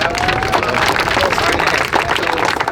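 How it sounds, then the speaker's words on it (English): A crowd at an NFL Draft 7on7 showcase claps and cheers for a player named Battle, a dense, steady burst of applause with voices mixed in throughout. "Clap it up for Battle, man."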